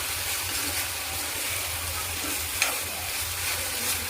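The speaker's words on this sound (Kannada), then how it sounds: "ಹಾಕಿ ಚೆನ್ನಾಗಿ ಮಿಕ್ಸ್ ಮಾಡಿದ್ರೆ" Grated coconut and basale (Malabar spinach) stirred and mixed in a hot pan, a continuous close sizzling and scraping with one brief clink of the utensil.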